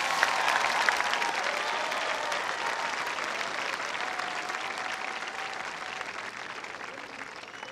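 A large audience at the Gateway High School 2024 graduation breaks into sustained, even applause, a dense wash of clapping that carries on steadily for several seconds, with faint voices mixed in.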